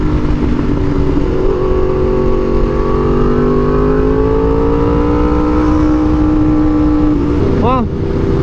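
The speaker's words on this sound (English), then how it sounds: "When you have a really loud exhaust" A car with a very loud aftermarket exhaust revs and drones steadily close by, its pitch slowly climbing and settling, with a brief sharper blip near the end.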